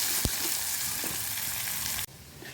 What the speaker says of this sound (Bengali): পেঁয়াজ আর ক্যাপসিকাম আমি দিয়ে দিলাম, ভালো করে ভেজে নিই।